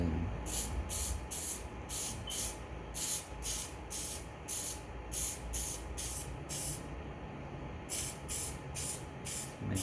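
Close spray gun bursts coating a Toyota Camry door handle in magnetic gray metallic paint, short hissing passes repeating in a steady rhythm over a constant low background rumble.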